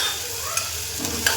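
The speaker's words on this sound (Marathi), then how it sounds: "अद्रक लसूण चांगलं तळू द्यायचं बघा, मस्त तळतं आहे ना तेलामध्ये गरम" Ginger garlic paste fries in hot oil for a mutton curry, a steady close hiss of sizzling with a few quick scraping knocks as it is stirred.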